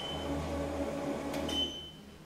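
A control button on a Brotherjet A3 UV printer is pressed and the machine answers with a short, thin electronic beep over a low steady hum of running equipment.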